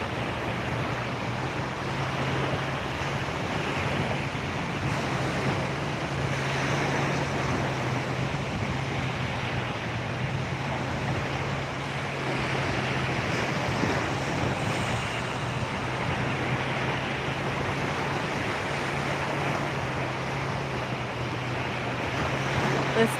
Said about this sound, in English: Listening to the ocean waves as a way to release that energy that's not yours